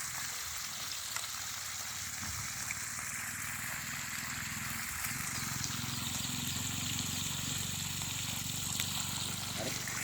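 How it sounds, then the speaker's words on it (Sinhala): Water rushes from the outlet of an electric water pump motor drawing 12.5 amps just after it is switched on, a steady, even gushing stream at moderate distance that lasts the whole stretch without pause. "මේ ස්විච් එක ඔන් කරපු ගමන් විනාඩි 2කට වතුර පාරක් අතරින් පිට වෙනවා"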